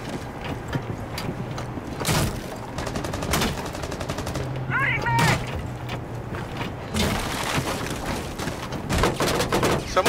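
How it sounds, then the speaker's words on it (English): Gunfire in Rainbow Six Siege, with repeated shots and rapid automatic bursts, some close and some more distant, over mechanical game noise and intermittent talk. "Someone shooting at me from drum room."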